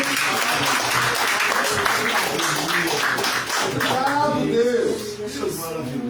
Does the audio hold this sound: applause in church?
yes